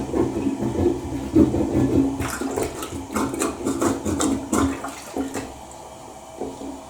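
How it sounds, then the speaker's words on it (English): A plunger works a clogged toilet with water, giving a sequence of wet gurgling thrusts and sloshing bursts, loud and close, that tail off into quieter draining. "I want to do one more plunge. Let's get a little more water down there."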